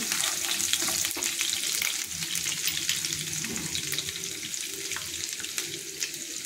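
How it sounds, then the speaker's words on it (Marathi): Finely chopped garlic frying in hot oil, producing a dense, continuous close sizzle with occasional faint clinks of stirring. No talking is heard. "त्याच्यामध्ये हे बारीक चिरलेले लसणाचे तुकडे घालायचे, हे भाजून घ्यायचे"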